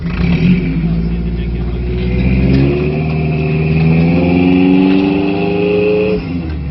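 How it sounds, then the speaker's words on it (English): A modified Toyota truck with AEV parts revs its engine hard, a loud, close, rising and falling roar with strong harmonics that climbs in pitch through the middle and drops off near the end. "Everything in that truck just sounds violent."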